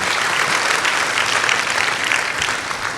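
A church congregation claps during a worship service, a dense, even wash of many hands that holds steady and loud from start to finish with no voices on top.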